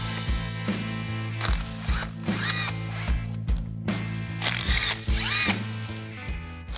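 Power tool spinning out bolts from a Mazda Miata clutch assembly, repeated whirring bursts with rising and falling pitch and short pauses between, close and fairly loud with no talking.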